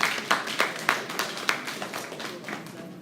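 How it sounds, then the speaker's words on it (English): Conference audience clapping in sharp bursts that build into applause, with sturdy claps landing close together, then a looser patter that fades out toward the end. "Clap them."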